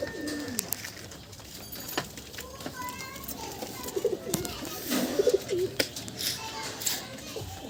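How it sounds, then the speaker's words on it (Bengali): White Madrasi pigeons are let out of their loft, with soft cooing and scattered fluttering against a background where a person talks and children's voices sound faintly. "আপনারা দেখুন দুটো একদম হোয়াইট মাদ্রাসি পায়রা উড়িয়ে দেওয়া হলো"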